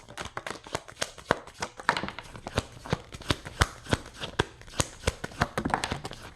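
Tarot cards are shuffled by hand in a close, crisp flurry of sharp riffling clicks and taps that come in uneven bursts, with no talking.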